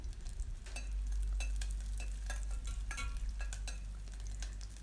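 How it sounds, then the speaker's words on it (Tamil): Garlic frying in hot oil for Kumbakonam kadappa, a loud steady sizzle close by with repeated spoon scrapes and stirring clatter throughout, no voices. "எண்ணெய் சூடானதும் பூண்டு சேர்த்துக்கோங்க"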